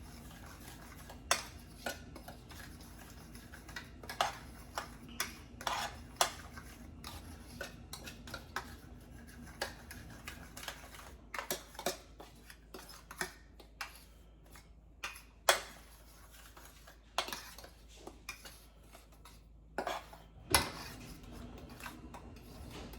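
Creole seasoning being mixed into red snapper for frying, with repeated light clinks and scrapes of a utensil against a bowl in an irregular rhythm, fairly quiet and close, without any talking.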